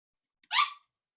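A single short, sharp dog bark, close and clear, standing alone against silence.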